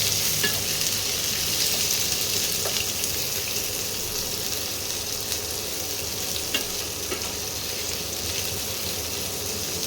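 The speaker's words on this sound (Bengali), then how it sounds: "পেঁয়াজগুলো একটু ভাজা করি।" Three medium chopped onions sizzle steadily in hot oil in a pan as they are stirred, a continuous close frying hiss with occasional scraping, no talk.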